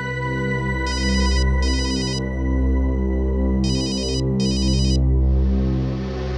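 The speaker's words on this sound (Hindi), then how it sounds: "किसका फोन है" A phone ringtone chimes in two pairs of short melodic bursts, a pause between the pairs, playing loudly over a sustained musical background that then swells into a soft wash.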